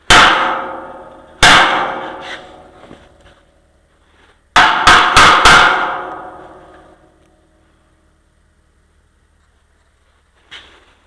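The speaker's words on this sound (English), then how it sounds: "Drop your brass hammer, then hit it down. Now hit it up." Sharp metallic brass hammer strikes ring out: two single blows, then a quick burst of four, each decaying with a ringing tail, and a faint tap at the end.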